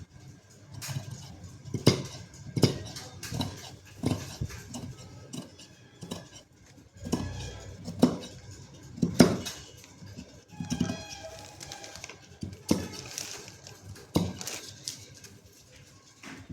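Scissors cutting fabric for a frill sleeve while stitching, heard as a series of sharp snips and rustles through the clip, with soft handling clatter between cuts and no speech.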